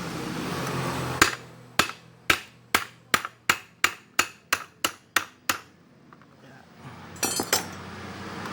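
A hammer strikes a metal part about a dozen times, sharp ringing clanks in a steady rhythm, close and loud, followed by a few quicker lighter taps after a short pause.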